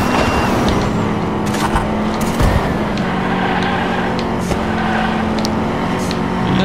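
Engine of the Batmobile racing in Hot Wheels Unleashed on Xbox Series X, a loud, steady drone with game music and effects layered over it.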